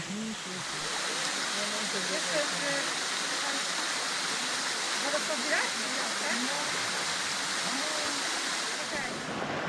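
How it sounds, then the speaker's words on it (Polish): A mountain waterfall rushes steadily as a broad, unbroken roar close by in a valley of the Tatras, with people talking faintly under the water noise. "I mamy wodospad."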